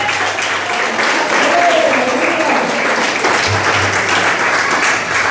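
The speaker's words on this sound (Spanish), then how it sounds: "Alguien le da un aplauso a Jesús por eso" A Spanish-speaking church congregation claps for Jesus during a sermon; a steady, full wash of applause filling the sanctuary, with a low hum and some voices mixed underneath.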